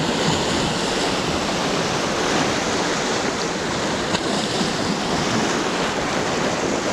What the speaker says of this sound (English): there's actually fairly big waves coming in here already.